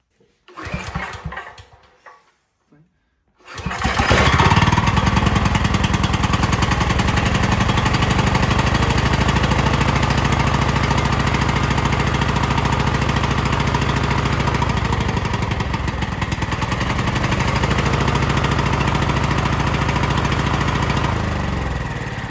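A 5000 W portable generator, its choke previously sticking, gives a short sputter, goes quiet for a moment, then catches and runs at a loud, steady, close-up drone for the rest of the time.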